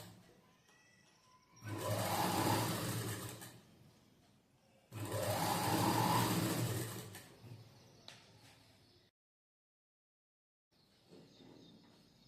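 A sewing machine stitches a seam on a four-tuck blouse in two sustained runs, close and steady, followed by a shorter burst after a brief silence, with a faint hum between.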